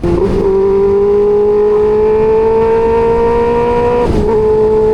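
A customized Benelli 600i motorcycle fitted with a loud replica exhaust revs hard nearby. It holds a strong, steady engine tone that climbs slowly in pitch, with a brief throttle blip near the start and another near the end.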